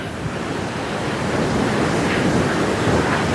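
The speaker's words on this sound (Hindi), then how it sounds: "और ये देख लो भाई, पानी की आवाज़" Fast-flowing river water rushing through a mountain valley in Bhaba Valley, Kinnaur, a steady loud broadband roar that fills the whole stretch without pause and with no voices.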